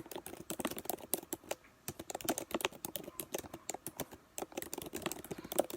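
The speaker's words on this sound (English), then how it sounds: "I know you guys can hear me typing" Fast typing on a computer keyboard, a close, steady patter of sharp key clicks in irregular bursts, heard alone without speech.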